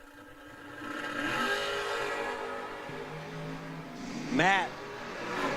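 A silver dragster on a re-entry run in lanes 5 and 6 at a drag strip roars steadily down the track, loud and broadband, with a rising engine pitch sweep near the end amid crowd and announcer talk.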